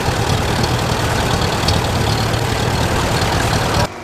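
A grey Ferguson tractor fitted with a banana loader runs steadily at a show roundup, its engine a loud, even diesel rumble close by that cuts off sharply near the end.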